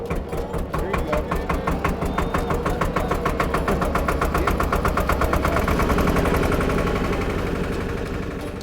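An old tractor engine runs close by, a loud, steady, rapid chugging that pulses evenly throughout and swells slightly toward the end.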